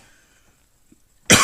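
A single sharp cough bursts out close to the microphone after a near-silent stretch, loud and brief.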